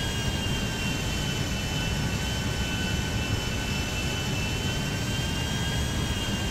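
A large airplane roars steadily close by, a broad engine rumble with high whining turbine tones holding constant throughout, no voices over it.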